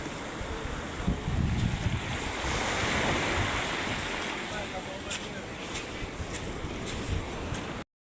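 Sea waves wash onto a rocky shore near a deep pool, a steady broad roar of surf mixed with wind buffeting the microphone, continuous and fairly close for the whole stretch.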